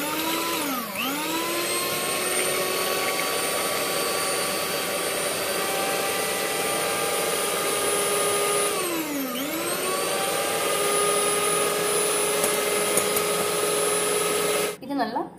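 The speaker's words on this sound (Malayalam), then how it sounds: "ഇത് നമ്മൾ ലോ സ്പീഡിലിട്ടാണ് ബീറ്റ് ചെയ്യാൻ സ്റ്റാർട്ട് ചെയ്യേണ്ടത്. അതിനുശേഷമാണ് അത് നമ്മൾ ഹൈ ആക്കി കൊണ്ടുവരുന്നത്." A handheld electric mixer beats plum cake batter in a bowl, a loud steady close whine that dips in pitch twice as the beaters bog down and recover, running almost unbroken before a clatter at the end.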